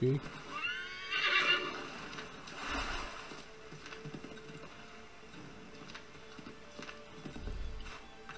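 A horse in a video game whinnies sharply near the start, then hooves clip-clop steadily throughout, fairly quiet, with game ambience and faint mechanical noises in the background.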